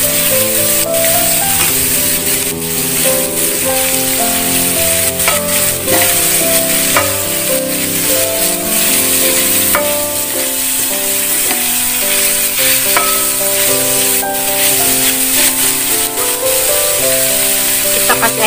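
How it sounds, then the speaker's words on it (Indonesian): Galangal leaves, papaya leaves and boiled, chopped cassava leaves stir-fried in a pan, with loud, steady sizzling and the scrape of stirring running continuously throughout, while music plays underneath. "Kita masukkan daun kencur, daun pepaya, dan singkongnya ya, yang sudah direbus, sudah dipotong-potong."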